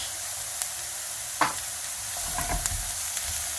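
Cumin, black pepper and salt stirred and sizzling in a pan for a spinach börek filling, a soft steady fry with a few scraping spoon strokes and clinks near the middle, alone and close.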